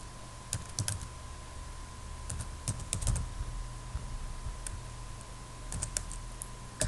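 Typing on a computer keyboard while entering a name into an online visa application form: scattered bursts of close key clicks with pauses between, over a steady low hum and no talking.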